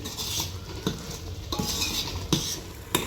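Soaked whole masoor lentils go into a pan of cooked onion-tomato masala, with a spoon scraping and clinking against the pan over a soft sizzle, in several distinct strokes.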